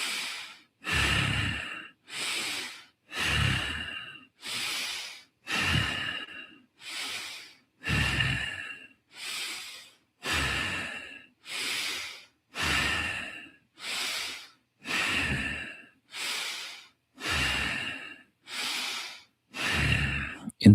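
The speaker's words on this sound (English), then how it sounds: "Let's start with 30 rounds of bow breathing." Rapid bellows breathing through the nostrils in a pranayama practice, about fifteen forceful, evenly spaced snorting breaths, loud and close, each a sharp burst of air with short silences between.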